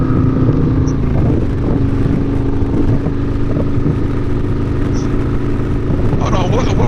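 Harley-Davidson motorcycles ride the Foothills Parkway, their engines a steady, close rumble with wind roar throughout and a brief rise in revs near the end; muffled voices come through faintly.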